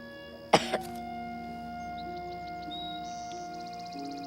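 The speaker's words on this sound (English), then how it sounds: "Even bigger cough." One sharp, loud cough from a boy sounds close by, followed by a quieter second burst, then a faint ticking and soft tones continue in the background.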